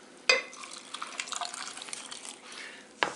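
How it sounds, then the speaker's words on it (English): Pickle brine in a jar of homemade fermented dill pickles is stirred, soft close liquid swishing and light clinks, with a sharp knock at the start and another at the end. "I'll just stir it again on principle"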